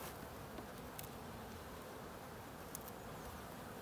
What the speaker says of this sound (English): And they're nice calm bees, aren't Yeah, they were buckfast.